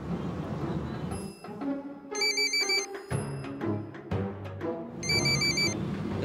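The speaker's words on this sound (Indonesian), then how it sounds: "Itu handphone kamu bunyi itu." A mobile phone ringtone sounds in repeated bright bursts, ringing twice with a pause between, over busy background sounds in an Indonesian TV comedy series.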